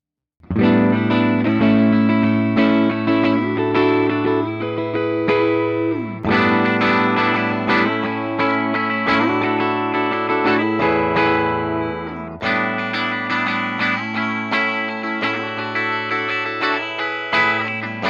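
A Chibson electric guitar played through effects units, ringing distorted chords and sustained riffs with a chorus-like shimmer, loud and continuous with brief breaks between phrases and no talking.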